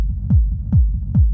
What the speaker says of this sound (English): we instantly have rumble added to the kick